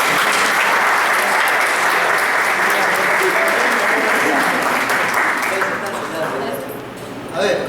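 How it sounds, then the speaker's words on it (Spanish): Sustained audience applause at an evangelism training session, dense and loud throughout, thinning slightly near the end with a few voices mixed in. "Un aplauso, por favor"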